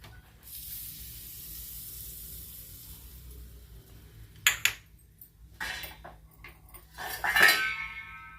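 A metal lid is set onto a pan with a bread pizza sizzling underneath, a couple of sharp clinks and a rattle over a faint hiss, ending in a brief ringing clang.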